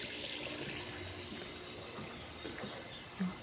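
Water runs steadily from a tap while plants are watered, a soft continuous rush with a small clunk near the end.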